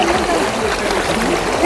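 River water flowing steadily at a crossing point near a temple, a continuous close rushing and gurgling stream with no voices over it.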